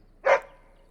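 A single short, high yip-like bark from a puppy in a human mage playthrough of a fantasy role-playing game in Lothering, standing alone and close against near silence.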